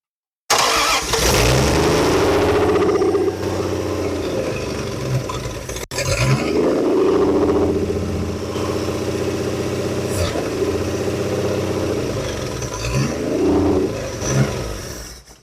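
An old engine in a classic car revived after 40 years, running without a cooling system, idles roughly and revs repeatedly in loud close surges, dipping briefly mid-run and revving again near the end.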